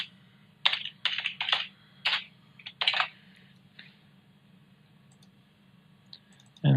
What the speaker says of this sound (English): double clicking on the beat here